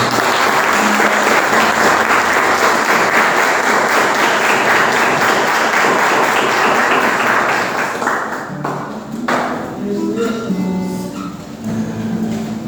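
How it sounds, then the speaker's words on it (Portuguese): Church congregation applauding the Lord, loud sustained clapping filling the room for about eight seconds before thinning out, with faint voices and music emerging as it fades. "Quero que você aplaude o Senhor em nome de Jesus."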